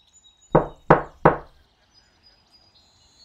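Three sharp knocks on a door, evenly spaced and close, each a quick thud with a short decay, followed by quiet.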